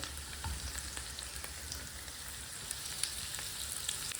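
Onions and flour frying together in a pan over medium flame, a soft, continuous crackle with faint scattered pops and occasional stirring scrapes, fairly quiet and close; no talking.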